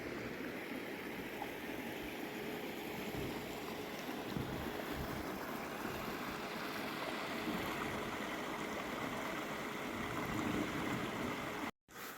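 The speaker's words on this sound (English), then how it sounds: "the creek is freezing over" A winter creek freezing over at 0°F flows in a steady, close broadband rush of water that holds evenly throughout, with no voices, cutting off abruptly near the end.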